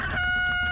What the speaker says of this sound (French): c'est le coq qui vient de la ferme des elfes.